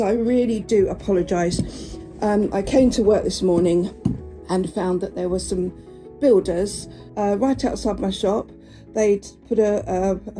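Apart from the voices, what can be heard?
No distinct noise like a dog, phone or traffic.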